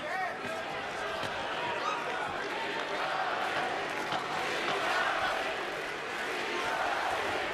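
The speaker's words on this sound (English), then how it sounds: "The crowd in Berlin chanting Klitschko's name" A big boxing arena crowd in Berlin roars and chants a fighter's name in a sustained, dense wall of voices, with a ringside commentator talking over the noise.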